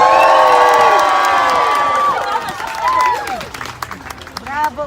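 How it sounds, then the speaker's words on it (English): Volunteers at a playground ribbon-cutting ceremony let out a loud, close crowd cheer with high shouts and whoops, which fades into scattered yells and chatter. "Can I hear the biggest cheer that you can possibly all just muster right now on the count of 3?"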